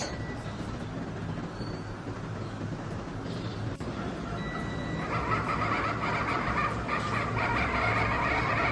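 A multi-function washing machine filled with water and detergent runs with a steady churning hum and faint rattling, growing slightly louder and brighter partway through, with no talk over it.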